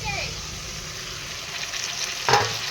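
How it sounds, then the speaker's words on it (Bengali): Chopped onion and tomato fry in oil in a pan, a steady close sizzle throughout with a brief louder burst of spattering near the end, no voices. "টমেটোটা পেঁয়াজটা আমার ভালো করে ভাজা হয়ে গেছে তেলের উপরে।"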